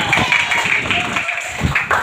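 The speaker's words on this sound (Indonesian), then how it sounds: "berarti tepuk tangan untuk kita semua." Schoolchildren in a classroom during an Islamic religious education lesson clap their hands in a few short, scattered bursts, with voices talking over and between the claps.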